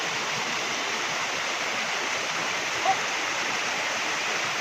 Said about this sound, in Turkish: bir güzelim şelaleye bak